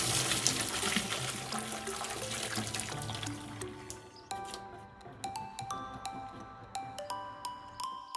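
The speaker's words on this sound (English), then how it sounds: "Now let's drain the water." Water from cooked udon noodles pours and splashes into a sink as they are drained, a rushing stream that breaks into scattered drips and trickles.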